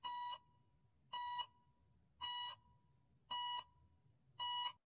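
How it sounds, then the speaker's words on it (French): Electronic beeps from a hospital monitor sound in a steady, evenly spaced pattern, five short tones repeating with quiet gaps between them. "Elle ne perçoit rien à part ce bip incessant."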